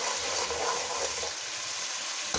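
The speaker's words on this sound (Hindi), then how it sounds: "हमने इसके अंदर पानी ऐड करना।" Water pouring into a pot of tarka rice being cooked, a steady splashing hiss that runs continuously throughout at moderate loudness, with no voices.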